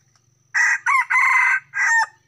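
A rooster crows loudly and close by, a single long cock-a-doodle-doo in several strong segments over near silence.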